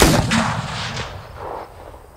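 A single loud shotgun blast at skeet shooting, sharp at the start and trailing off into a long rolling echo outdoors, with no voices.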